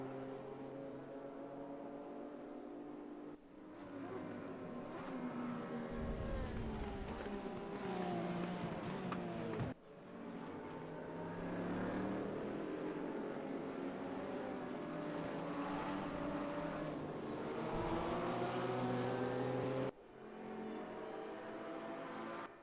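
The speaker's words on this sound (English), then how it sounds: "Gorgeous sounds from two very different cars going by as they enter the main straight towards Brooklands" GT3 and GT4 race cars in the Raceroom racing game, at Silverstone heading onto the main straight, sweep past in a run of loud engine passes with rising and falling harmonic whine and a few abrupt cuts between them.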